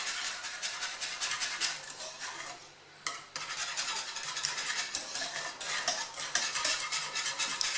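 Gelatin being stirred into milk to melt it for panna cotta, a utensil scraping and clinking steadily against the pan in quick repeated strokes, close and fairly quiet, with a brief pause partway through.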